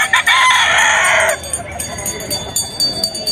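A rooster crows loudly and close by in one long drawn-out call at a livestock market, followed by softer clucking and scattered bird chatter.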